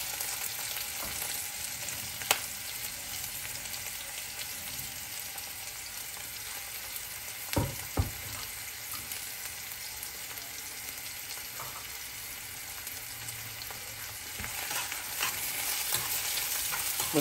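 Onions fry with sardines in a pan as a continuous hissing sizzle, close and even, broken by a few sharp clinks of a utensil and brief stirring scrapes, with no voices.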